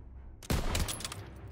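Gunfire in the World War II shooter Call of Duty: WWII, a sudden loud burst of shots that starts after a quiet moment and trails off into a rumbling echo over battlefield noise.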